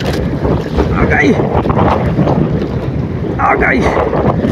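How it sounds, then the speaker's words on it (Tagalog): Strong wind buffets a small fishing boat on rough, choppy water on the Camiguin Sea, a constant loud roar of gusts and waves against the hull with brief shouted bits over the blustery din. "Kasi hangin kasi, amigo. At maalon."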